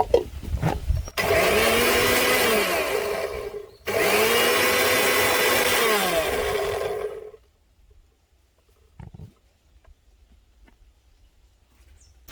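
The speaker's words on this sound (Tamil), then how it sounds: "இப்போ எல்லாத்தையும் ஒன்றா சேர்த்து அரைச்சி எடுத்துக்கலாம்." A blender grinds mint, cumin, yogurt, salt and sugar into mint lassi, running loud and close in two steady whirring bursts with a short pause between, then stopping into near silence.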